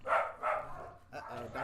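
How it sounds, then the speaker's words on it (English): A few dogs barking nearby in a quick burst of yips and barks, with a voice talking over them. "Uh-oh, doggos."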